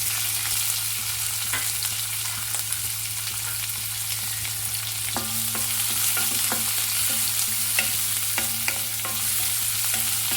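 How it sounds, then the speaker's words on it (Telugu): Onions frying with cumin in a pan, giving a steady soft sizzle with intermittent light stirring scrapes and a constant low hum in the background. "ఇప్పుడు ఆనియన్ వేసేసుకుందాం"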